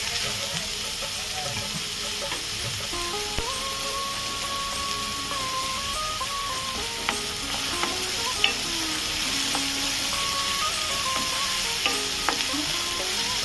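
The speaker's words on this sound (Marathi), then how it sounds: "कांदा जरा मऊ करून घेते।" Onions frying in a pan for Mangalorean chicken sukka, a continuous close sizzle with occasional clinks and scrapes of the spatula stirring, plus faint faraway tones in the background.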